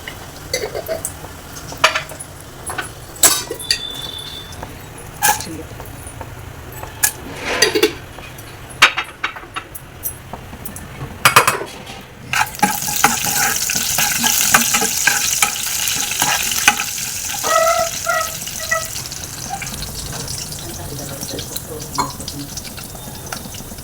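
Cumin and mustard seeds fry and crackle in hot oil in a pan, with sharp clinks and scrapes of stirring early on, then a louder steady sizzle with popping.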